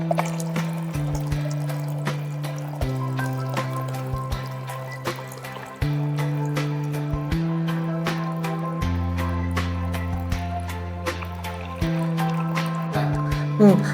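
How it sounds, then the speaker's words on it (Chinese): Water draining out of a snowmelt machine after cleaning, a soft continuous trickle and pour under a series of stepped electronic tones and clicks, fairly quiet and close. "我们就把里面的水放出来就可以了"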